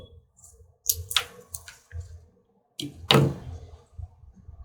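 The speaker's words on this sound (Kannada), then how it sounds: "ಅದರ ಬೇರನ್ನು ಕತ್ತರಿಯ ಸಹಾಯದಿಂದ ಕತ್ತರಿಸುತ್ತಿದ್ದೇನೆ" Scissors snip through a plant's roots, giving a few close, crisp cutting clicks and crunches separated by quiet pauses, with light handling noise in between.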